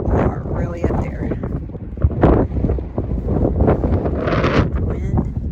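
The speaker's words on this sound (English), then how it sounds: "The wind is gusting." Strong gusting wind high up on the Kinzua Bridge Skywalk in Pennsylvania buffets the microphone in loud, uneven bursts, rumbling and roaring close up throughout.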